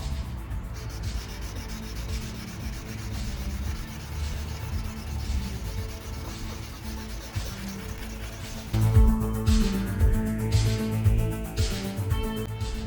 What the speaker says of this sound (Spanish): ya lo hemos lijado con la lija del 2000